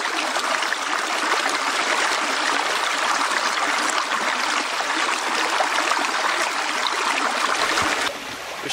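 A steady rush of a mountain stream burbles continuously over rocks and gravel, loud and close, with no voices.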